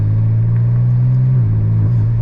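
A BMW G82 M4 engine under boost holds a loud, steady low drone that stutters and dips briefly near the end as it breaks up and cuts back, heard from inside the car with no talk.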